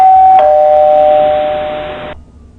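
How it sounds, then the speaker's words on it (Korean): A single electronic doorbell chime rings loudly, holding a bright tone for about two seconds before cutting off abruptly. "주무시려고 누우시니 갑자기 초인종 소리가 났답니다"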